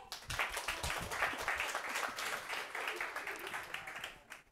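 A class of students applauding during an online current-affairs lesson, a dense burst of clapping that holds steady for several seconds and then trails off, with a faint voice underneath.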